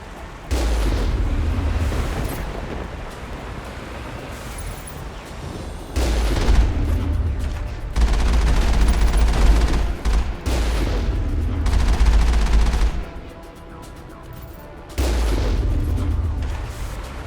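Dense, sustained gunfire in the Mass Effect video game, with sniper and heavy weapon shots booming in long loud bursts separated by short lulls.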